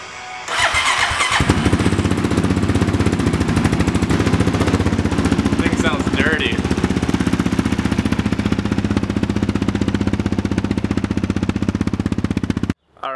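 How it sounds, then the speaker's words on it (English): A homemade Raptor engine coughs, catches and fires up for the first time, then settles into a loud, steady rapid-firing idle close by for over ten seconds before cutting off abruptly. "The fuel controller's on and we're gonna fire it up for the first time here"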